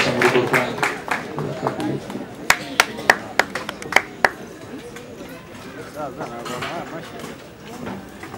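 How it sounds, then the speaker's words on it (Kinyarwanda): Wedding guests clap in a brief run of sharp, evenly spaced claps that rises and then fades, heard over a loud voice talking and general crowd noise at a wedding in Kigali. "amashyi n'impundu tubashyigikire"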